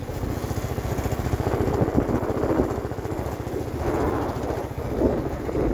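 A motorbike engine drones steadily and close by on a ride through hill country, its even pulsing rumble continuing throughout with wind buffeting the microphone and no voices.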